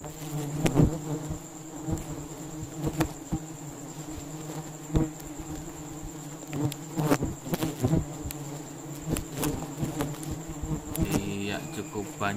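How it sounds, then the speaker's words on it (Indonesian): Bees buzz steadily around a nest high in a mangrove tree in a South Sumatra mangrove forest during honey harvesting, a continuous insect drone with louder swells as individual bees pass close. "di bagian atas juga bisa ditempati oleh lebah untuk membuat sarang teman-teman"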